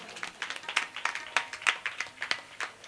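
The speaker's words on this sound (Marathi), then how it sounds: "जोरदार टाळी वाजवा त्यांच्यासाठी" An audience at a wedding kirtan claps for the performer in a steady, rhythmic series of sharp hand claps, moderately close and fairly even in pace.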